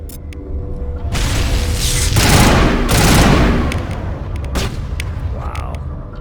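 Gunfire rattles in Mass Effect Legendary Edition, a loud sustained barrage of overlapping shots and booms that swells in the middle and then thins to scattered bursts.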